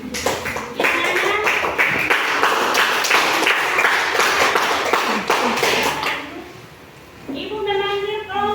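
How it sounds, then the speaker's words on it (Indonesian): Schoolchildren in a classroom clap their hands together in a loud burst of dense, uneven claps lasting several seconds, fading out before a voice and a brief tonal sound follow. "Ya, teman-teman semua tepuk tangan."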